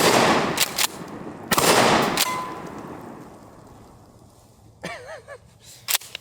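A Mossberg 590 Shockwave 12 gauge shotgun fires two loud, close blasts about a second and a half apart, each with a short ringing tail, followed later by fainter clanks or handling noises.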